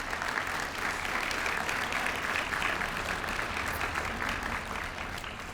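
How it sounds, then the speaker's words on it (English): Sustained applause from a banquet audience at a Chamber of Commerce awards dinner welcoming new members, steady dense clapping filling the room for several seconds without talk. "Please give them a round of applause"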